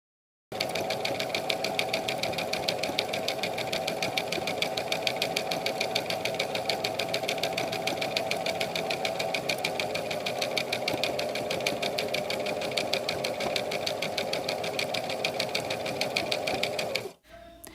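A home sewing machine stitching zigzag and straight seams runs steadily and close, a fast even mechanical whir with rapid needle clatter that continues without pause for most of the span, then stops abruptly near the end.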